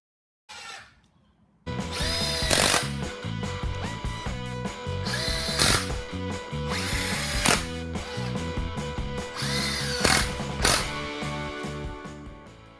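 A power drill drives screws into a 2x4 workbench frame, its motor whining in a run of loud, close bursts, one after another, after a brief quiet opening.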